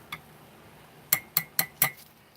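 A spoon stirs inside an opened MRE ration pouch, making one light clink and then four crisp metallic taps in quick succession, close and fairly quiet, with nobody talking.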